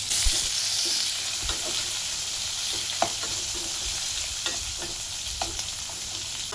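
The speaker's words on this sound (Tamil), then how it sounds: "வெங்காயம் நல்லா வதங்கணும்." Onions sizzle steadily in a hot pan for tomato chutney, a continuous frying hiss with occasional soft scrapes of stirring.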